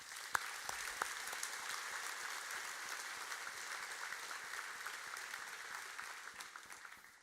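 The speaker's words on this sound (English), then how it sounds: "So if you could give them another round of applause," A meeting audience applauds at length, a soft, distant wash of many hands with a few sharper claps early on, holding steady before tapering off at the end.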